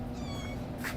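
A cat meows once, short and fairly close, over a steady low background hum.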